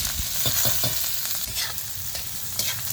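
Finely chopped onion fries in half a ladle of oil, a close, dense sizzle with a few quick scraping stirs near the start and a lone tap later, with no talking.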